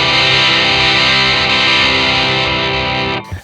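Electric guitar driven through an overdrive pedal, a loud sustained crunchy chord ringing with rich harmonics for about three seconds before being cut off abruptly.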